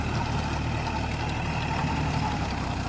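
A tractor with a rotavator works a muddy field, its engine droning steadily and loudly up close throughout, with no gaps and no voices.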